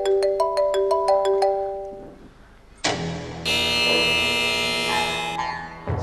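An incoming-call ringtone on a phone in a Vietnamese comedy sketch plays a quick series of bright electronic beeping notes. After a short pause, a louder sustained melodic passage rings out clearly without talk.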